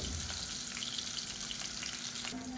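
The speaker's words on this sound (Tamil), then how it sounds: "வெங்காயம் நல்லா ப்ரௌனாக வதங்கட்டும்." Medium-size onions, sliced lengthwise, frying in oil for a kuska rice dish: a faint, steady crackling sizzle runs continuously from start to finish, with no talking.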